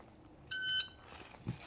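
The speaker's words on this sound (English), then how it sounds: "set this to a random beep" A single sharp electronic beep from a shot timer, steady and high-pitched, lasting about a third of a second, followed by a faint thud against low background noise.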